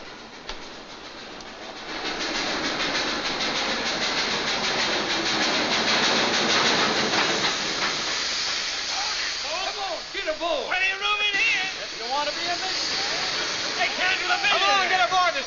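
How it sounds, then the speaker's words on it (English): A train clatters and rumbles alongside a platform, loud and continuous, with squealing brakes and scattered voices toward the end. "Walter, I'll miss my train."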